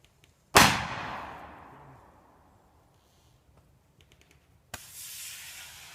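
An airsoft cannon, a TLSFx Mark 7 or Mark 9, fires one loud, booming blast close by. The sound rings out and fades over a couple of seconds, then a quieter noise follows, with no talking.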